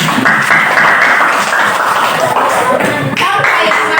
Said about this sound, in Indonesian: Betul sekali, tepuk tangan, Bu.